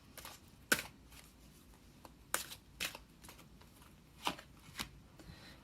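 Tarot cards shuffled by hand without fanning give quiet, scattered riffling snaps and soft slides in irregular bursts, close by with near silence between.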